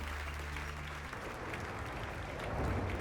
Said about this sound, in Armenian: Ծափահարությունները չեն դադարում, ճանապարհում ենք օծին։